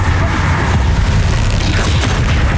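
A Bombarda spell explosion in the Hogwarts Legacy video game, a dense, loud, rumbling blast with crackling debris that fills the whole stretch without letup.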